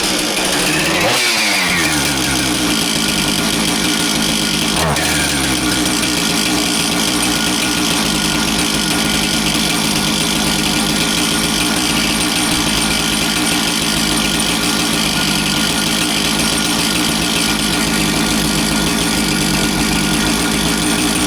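A Husqvarna 460 chainsaw's two-stroke engine catches after a brief pull and runs loud and close, holding a steady, buzzing idle for about twenty seconds with no talk.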